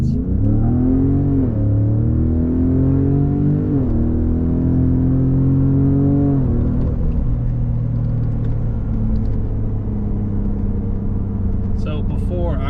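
A Ford Raptor truck accelerates hard in sport mode with a custom engine and transmission tune, its loud engine note climbing in pitch, dropping sharply at each quick gear shift, then settling into a steady roar from inside the cab.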